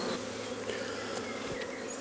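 Dense, continuous buzzing of many honey bees around WBC hive boxes, steady and close for a couple of seconds.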